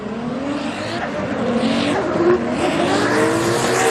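A GR Yaris drift car at Fuji Speedway during a Formula Drift Japan Top 16 battle, engine roaring loud and near with shifting pitch under continuous screeching tire squeal.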